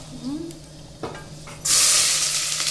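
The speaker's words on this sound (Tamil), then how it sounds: "வெங்காயம் போட்டு வதக்கிட்டு" Onions dropped into hot oil with cinnamon and cloves for a curry, bursting into a loud, close hiss after a few quiet knocks and stirring sounds.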